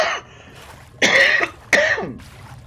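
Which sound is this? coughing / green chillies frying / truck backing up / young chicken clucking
coughing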